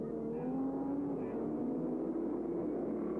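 A Ford Falcon saloon car engine droning steadily at a distance during a 1982 Australian saloon car race, its pitch wavering slightly, with a commentator talking over it.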